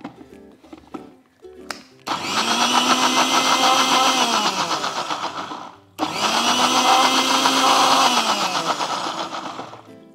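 Mixer grinder blending spinach dal, two loud whirring bursts of a few seconds each, the motor pitch sagging as it runs, separated by a short pause, after some faint handling clicks.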